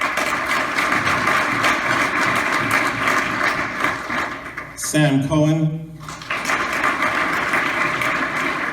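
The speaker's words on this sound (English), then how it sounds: "I suggest we stop the clapping because others will be here all night." An audience at a community gathering for a longtime Queens Hatzolah coordinator claps in a steady, continuous patter, with a single voice speaking briefly over the applause partway through.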